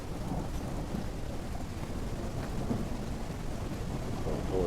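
Steady rain and rolling thunder fill a stormy scene in the video game No One Survived, a dense, continuous downpour with low rumbles throughout.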